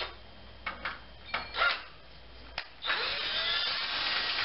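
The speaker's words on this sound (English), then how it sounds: "we have to take the bolts off from the front" Bolts come off the front of a 2016 Delta Children crib, model 7312-207: a few sharp metallic clicks and ratcheting scrapes, then a sustained close whirring of a power driver.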